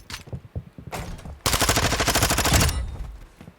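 Rapid automatic gunfire in Warzone 2 as a player shoots through a door, a loud sustained burst of shots after a few scattered earlier rounds, then trailing off.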